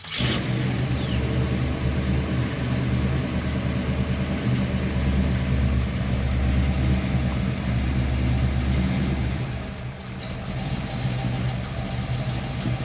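A 1956 Chevy 210 two-door gasser drag car with a brand new engine idles with a deep, lumpy rumble, revving briefly at the start and again near the end, loud and close.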